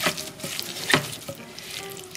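Seasoned fatsia shoot salad (두릅무침) with carrot strips, scallion and sesame seeds gets tossed and mixed, giving soft wet rustling and a few sharp scrapes, close and quiet, without talk.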